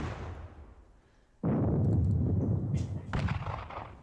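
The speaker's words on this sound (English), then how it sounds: "Still do love the skirmishers sound effect." Skirmishers in a video game fire muskets, heard as a sudden loud crackling volley followed by a second burst, with faint background noise before the shots.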